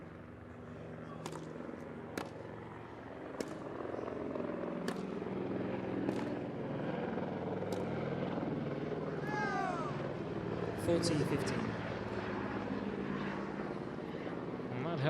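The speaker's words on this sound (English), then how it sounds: "And that helicopter is very low." A low-flying helicopter drones steadily overhead throughout a professional tennis match, with crowd noise, sharp ball strikes and someone commentating over it.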